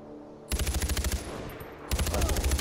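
Rapid bursts of automatic gunfire from a newly bought laser-sighted weapon in Far Cry 4, two loud sustained volleys separated by a brief pause, with no talking.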